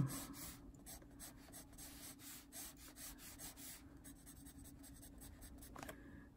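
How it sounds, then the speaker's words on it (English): An Inktense pencil drawing lines on paper makes a quiet, close scratching and rubbing sound in short repeated strokes over a faint steady background hum. "Just drawing lines in it."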